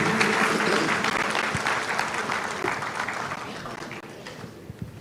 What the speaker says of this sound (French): On va le raccompagner par les applaudissements, s'il vous plaît.